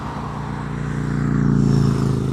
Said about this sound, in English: sorry about the road noise, but we are right next to quite a big highway.